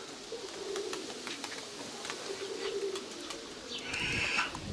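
Pigeons cooing softly in short repeated low phrases, fairly faint against an open outdoor background, with a brief higher chirp or squeak near the end and no talk.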